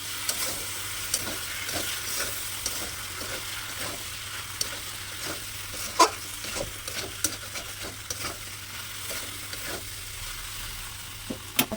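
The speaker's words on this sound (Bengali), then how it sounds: "পোস্ত দিয়ে বেশিক্ষণ ভাজবো না হালকা নেড়ে চেড়ে জল ঢেলে দিলাম" Potatoes frying with poppy seed paste in a pan, giving a steady low sizzle with scattered stirring clicks and scrapes, fairly quiet and close, with no talk.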